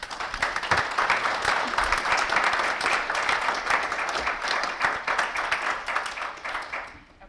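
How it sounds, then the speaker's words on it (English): An audience gives a round of applause to the panelists after a forum discussion on data ethics, a full, continuous crowd clapping that holds steady for several seconds and tapers slightly at the end. "Let's give a round of applause to the panelists"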